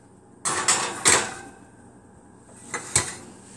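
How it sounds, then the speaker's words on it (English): Muffin tray being put into an oven: a couple of sharp metallic clatters and clunks from the tray and oven door, close and distinct, followed after a pause by a final bang of the door shutting. "So, put them in the oven."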